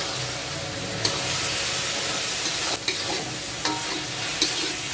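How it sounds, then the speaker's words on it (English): Egg chicken fried rice with soy sauce is stir-fried over a high flame, a loud dense sizzle with a few sharp clinks of a spatula against the pan. "Now we'll give all this a good mix"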